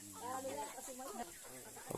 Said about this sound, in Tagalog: Pag nasa probinsya ka talaga, ang daming mga manok.